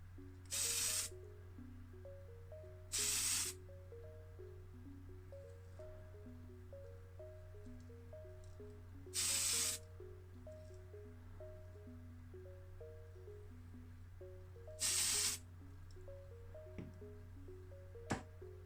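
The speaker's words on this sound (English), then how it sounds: "give it a coat of primer" Spray primer applied to a Matchbox E-Type Jaguar model car chassis in four short hissing bursts spread across the clip, each about a second long, over a steady low hum and soft background music.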